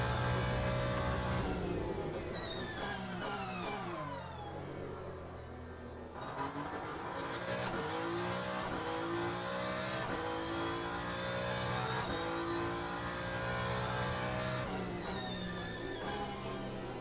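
A Ferrari race car in Le Mans Ultimate, racing at Fuji, drones with a loud, continuous engine note that climbs and drops through repeated gear shifts, heard from the cockpit with no talk.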